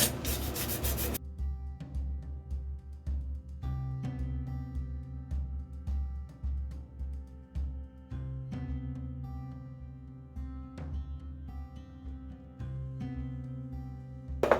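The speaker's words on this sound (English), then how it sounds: "So I'm just going to brush over it with my sandpaper." Sandpaper rubbing over a Dollar Tree vase to scuff it before painting, rhythmic scratchy strokes close up, heard over steady background music.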